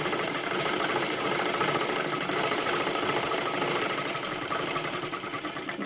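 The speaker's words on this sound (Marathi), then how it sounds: "इथून एक शिलाई मारून घ्या" A sewing machine stitches a blouse seam, giving a continuous, even mechanical whir that holds steady throughout at a moderate level.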